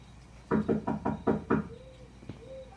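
Five firm knocks on a wooden door in quick, even succession, close and loud, followed by a quieter single tap.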